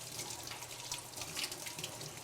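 Cold tap water runs steadily into a sink as leek leaves are rinsed under it, a continuous close splashing hiss for the whole stretch with no voices.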